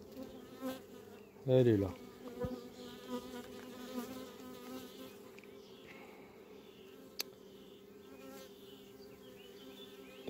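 Bees hum and buzz steadily around a hive during queen marking, a close continuous drone with a brief louder burst early on, while a person speaks softly in French now and then.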